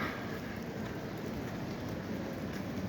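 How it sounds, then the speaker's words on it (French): Steady rain falling in Spain, a soft, continuous patter with no distinct drops standing out, heard alone and fairly faint throughout. "Par contre, il pleut, le téléphone il est trempé."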